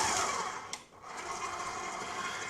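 An electric stand mixer whirs steadily as it spins chocolate chip cookie dough, a continuous close-up motor drone with a brief dip partway through, no talking.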